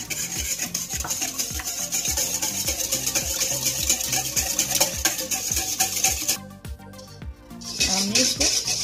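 Pizza dough batter of butter, oil, milk and egg is mixed in a bowl with a steady, rhythmic scraping and thumping that repeats about once a second. The sound briefly breaks off near the end, then resumes.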